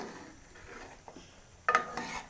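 A spoon scrapes and stirs karahi meat with garam masala as it roasts in the pan, soft rubbing strokes ending in a couple of sharper metallic clinks.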